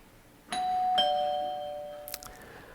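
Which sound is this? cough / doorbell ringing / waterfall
doorbell ringing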